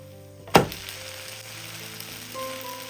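Flatbread fries in a pan over a low-medium flame, giving a soft steady sizzle close by after one sharp knock as it is flipped, with no voices.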